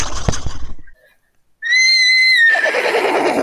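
A person imitates a horse neigh with a loud, rising then falling whinny that runs into breathy, rough noise, after a short burst of other sound and a brief pause.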